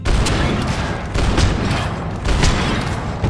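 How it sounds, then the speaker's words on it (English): Rapid bursts of gunfire from a Rockstar action video game, loud repeated volleys roughly every second with booming impacts, no talking. "Continue shooting."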